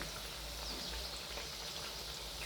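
Sweet jaggery kapnya pastries deep-frying in hot oil, a steady soft crackling sizzle that holds evenly throughout and stays faint, with no voices.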